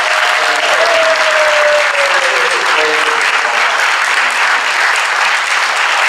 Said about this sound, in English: I just want to say a huge round of applause for all of our debaters